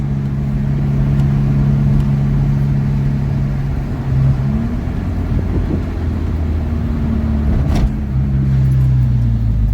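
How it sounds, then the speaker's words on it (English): Toyota Hilux truck with a 2.7L 3RZ turbo engine, driven at night, droning loudly and steadily, then the clutch kicks and the revs jump sharply midway before settling back into a hard, close engine note. "Ooh, clutch kicks."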